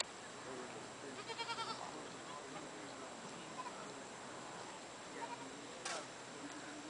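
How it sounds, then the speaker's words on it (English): Goats bleat in short, wavering cries amid a faint outdoor background, a few calls close by and others softer, with occasional light voices. "All these goats just walked up to me."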